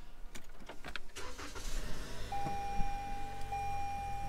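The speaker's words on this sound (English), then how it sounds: "All right, so I'm going to turn on the car." A 2018 Toyota Camry XSE is switched on: a few clicks and a brief starter churn as the engine catches, followed by a quiet, steady idle with a thin electronic tone running underneath.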